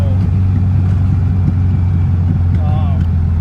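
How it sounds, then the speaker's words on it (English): A loud, deep engine rumble from the exhaust of a 1952 Volkswagen Beetle Zwitter runs continuously nearby, with a voice talking over it. "the exhaust is loud"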